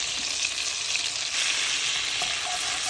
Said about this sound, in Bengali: চিকেনটা এখন ভালো করে ভেজে নিব